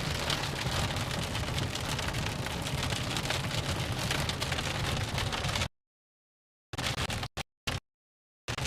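Rain and hail pound down during a storm chase through Minnesota and Iowa: a loud, dense, steady roar for about five and a half seconds, then the sound cuts out, leaving only a few short bursts.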